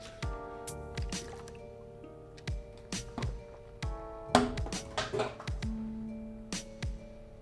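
Rain drips in the video game Pesterquest, scattered wet plops and squishy drops falling at an uneven pace over a soft, steady backdrop of sustained tones.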